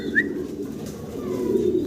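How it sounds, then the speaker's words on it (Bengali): A large pair of Mundian pigeons cooing at a pigeon farm, soft low throaty coos rolling continuously at close range with a faint higher chirp early on. "বিগ সাইজের এই মুন্ডিয়ানের জোড়াটা"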